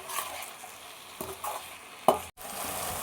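Masala with turmeric, coriander powder and garam masala fries in a pan for mutton brain fry while a spoon stirs it, giving a soft steady sizzle with a few scraping strokes and one sharper knock, then a brief dropout; no talk.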